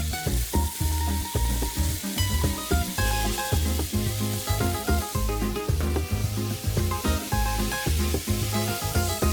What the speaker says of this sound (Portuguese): E por fim eu vou selar o lombo e a nossa carne de sol.